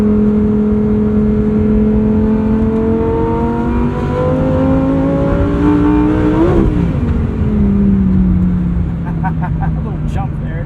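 A Lamborghini Huracan Technica engine revs and accelerates from inside the cabin, a loud sustained roar whose pitch climbs and sweeps through gear changes, droning continuously throughout.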